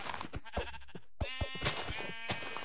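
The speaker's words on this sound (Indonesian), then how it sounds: "Ada domba hitam." A black sheep in Minecraft Java Edition bleats several times in short, wavering calls, fairly close and clear, separated by brief quiet gaps with no talking.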